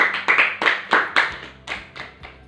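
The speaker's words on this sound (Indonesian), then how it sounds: "tepuk tangan untuk temannya tadi." A small group of students claps in a classroom for a classmate after a chemistry problem is answered, giving about eight to ten distinct, fairly close claps that arrive in an uneven rhythm and then fade out.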